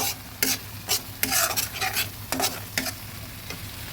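Onion paste and water go into a pan for koi fish curry, with a constant hot sizzle broken by repeated scraping stirring strokes in an uneven rhythm, close and fairly loud, no talking.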